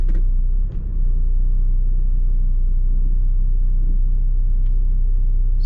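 A Saab 9-3 with a major transmission problem reversing, heard from inside as a steady low engine rumble and drone with faint clicks, loud and continuous with no voices.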